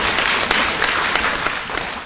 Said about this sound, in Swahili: tumpigie makofi mengi sana